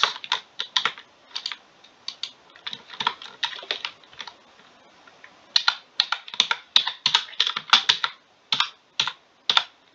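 Computer keyboard typing in a quiet room, bursts of rapid crisp key clicks with short pauses between runs, close and moderately loud, no voices.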